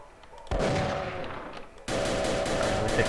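Enemy gunfire in a Unity-built shooter game: two sustained bursts of rapid, loud synthetic shots, each running for over a second, with a quieter lead-in before the first.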